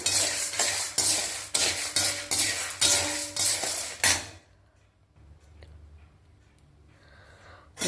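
Dry coconut powder roasts in a pan without oil as a spoon scrapes it in about eight brisk, rhythmic strokes. The stirring then stops, leaving near quiet with faint low rumbling and a light clink.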